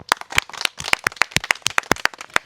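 A small group of people clapping nearby, sharp irregular hand claps in a brief burst with little else around them.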